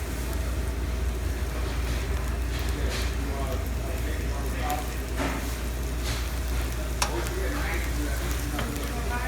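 Peppers, onions and mushrooms sizzle steadily in a frying pan for an omelette, a dense continuous hiss with occasional pops and stirring scrapes, close and loud throughout.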